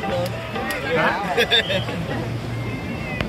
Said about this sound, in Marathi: खूप गर्दी आहे इथे.